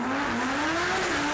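An Audi R8 with a naturally aspirated V10 engine pulls hard in a single steady rising sweep, loud and close, with no talking, before cutting off sharply at the end.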